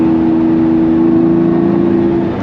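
A high-mileage Lamborghini Murcielago engine pulling hard on the motorway, a loud steady drone heard from inside the car that holds through the whole stretch without talk.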